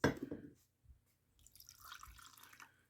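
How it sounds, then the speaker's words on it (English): Crud Cutter cleaner poured into a jar holding engine lifter parts from a 2002 Saturn SC2, a brief close liquid pour and trickle into glass that follows a man's speech. "I'm going to pour in"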